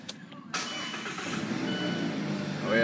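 A Mazda car engine cranks and catches, then settles into a steady close idle that swells slightly at the end, with brief speech at the start.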